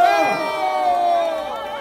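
An outdoor rally crowd in front of the Seoul Central District Court cheers and shouts in a loud, continuous roar that holds steady throughout.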